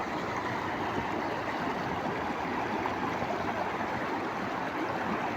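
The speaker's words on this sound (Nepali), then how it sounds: "एउटा मात्रै खोलामा बाडी आएको छ" A flooded stream in spate rushing past, a continuous loud broadband roar of churning water, close and unbroken.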